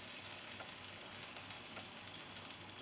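Buttermilk French toast fries in a pan with a steady, close sizzle and faint crackles, no voices.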